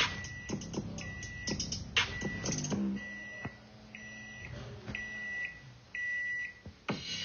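A series of short electronic microwave beeps, about five evenly spaced, while popcorn cooks, over clattering kitchen noise nearby.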